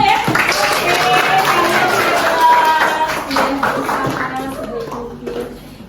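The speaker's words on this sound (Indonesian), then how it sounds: "Tepuk tangan untuk kita semua ya" Classroom clapping from a group of students and their teacher, a busy, fairly loud patter of hands mixed with children's voices that thins out toward the end.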